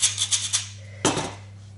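Flour is shaken through a coarse sieve in a few quick rhythmic rasping strokes, a brief pause, then a louder scraping rub that fades, all close against a steady low hum.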